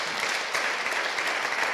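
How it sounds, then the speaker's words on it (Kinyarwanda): Steady, dense applause from a church audience at a question-and-answer talk with a reverend, even and continuous throughout with no voices standing out. "Aba bantu ni mubaha amashyi menshi."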